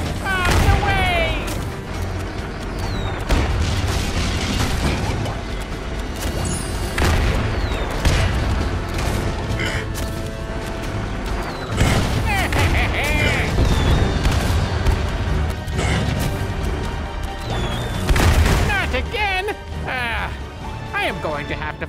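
Repeated cannon shots from Skylanders Trap Team gameplay: loud booms and crashes keep coming over the whole stretch, layered over busy game music and a character talking.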